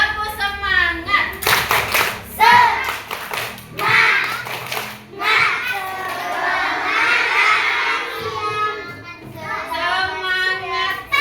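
In a classroom, a group of children claps in bursts and shouts together in a spirit chant led by their teacher. The rhythmic clapping comes in loud bursts, with excited young voices in between, close and lively.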